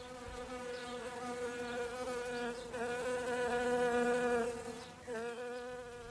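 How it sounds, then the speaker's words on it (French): Insects buzz steadily up close around a flowering olive tree, a droning hum that rises and dips in pitch as they move about, with no voices. "Le bourdonnement des insectes autour de l'olivier en fleurs était toujours aussi régulier"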